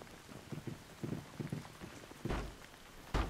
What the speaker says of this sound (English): Something different, it's raining.